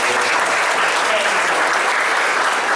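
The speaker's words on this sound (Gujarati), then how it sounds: "તાળી પાડી" Applause from a congregation after a certificate is handed to parents at a Christian dedication ceremony, dense and loud, a steady wash of clapping without pause.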